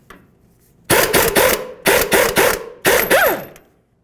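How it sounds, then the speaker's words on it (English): Wrench strokes loosening a 22mm jam nut on the inner tie rod of a 2000-2005 Buick LeSabre: three close, loud bursts of harsh metallic rasping and ratcheting, each about half a second long, separated by short pauses. "let's go ahead and remove that 22mm jam nut"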